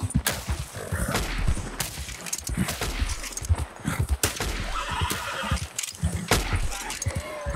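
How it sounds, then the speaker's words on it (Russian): A horse whinnies and hooves clatter amid gunfire in Red Dead Redemption II, with sharp shots and shrill neighs repeating close by over a rumbling game soundscape. "Отлично, лошадь подбили."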